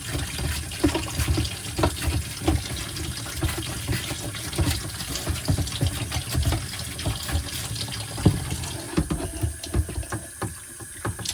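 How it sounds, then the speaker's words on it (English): Water sloshes and splashes continuously as a Shark NV501 vacuum dust cup is rinsed and shaken, an irregular, close wet churning with small knocks and no talking. "And then just put some water in there, shake it up, get most of the dirt out of it."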